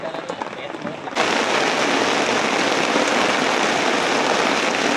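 Heavy storm rain starts abruptly and keeps up as a dense, loud, continuous hiss. It begins after a brief quieter stretch of softer background noise.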